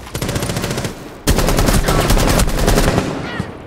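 Automatic gunfire in the video game Rainbow Six Siege: a lighter stream of rapid shots, then a sudden, louder and denser burst of fire that rattles on for about two seconds before easing off.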